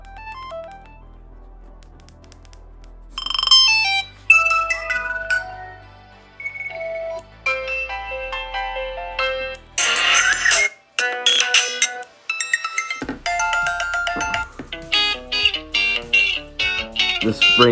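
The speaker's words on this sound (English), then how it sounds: "This ringtone is nostalgic to me, honestly." A Motorola Moto G7 Play ringtone plays through the phone's own speaker, a bright, melodic electronic tune of repeated chiming notes that carries on for the full stretch, with a short gap about two-thirds of the way through and no talking.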